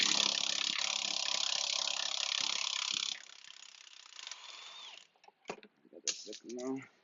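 A socket ratchet clicks rapidly and steadily on a wheel bearing bolt of a 2010 Mercedes C300 4Matic, loud for about three seconds, then quieter with scattered clicks and a voice speaking toward the end.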